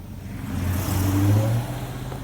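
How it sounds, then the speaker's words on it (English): A car passes fast along a street near a skateboarding spot, its engine note rising into a single loud whoosh as it goes by, then fading away, with no talk over it. "There's a car coming off."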